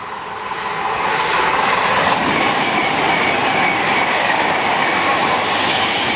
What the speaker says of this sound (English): Doing a service for London Euston from Manchester Piccadilly.